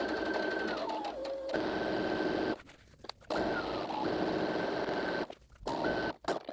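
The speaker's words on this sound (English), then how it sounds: "So I'm just going to run a quick stitch within the seam allowance all the way around." A sewing machine runs a stitch through fabric within the seam allowance, a steady close mechanical whir in long continuous runs broken by short pauses.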